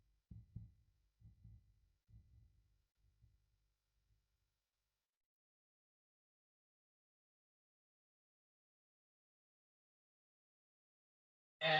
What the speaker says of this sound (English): We got the heart beating.